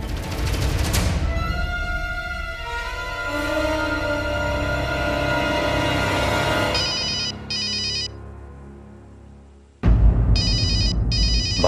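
A telephone rings in a Hindi drama, sounding a sequence of electronic ringtone tones that pause briefly before a loud burst of ringing resumes near the end.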